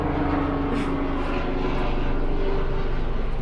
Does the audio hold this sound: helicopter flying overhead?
yes